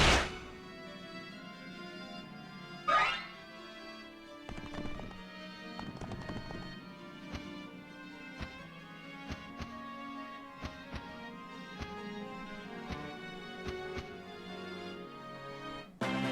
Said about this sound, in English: we got some actual horses on the field now